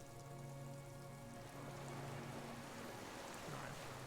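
Rain quietly falling on reeds on a windless islet in the video game Disco Elysium, a steady, even patter with a soft low hum beneath, continuous throughout.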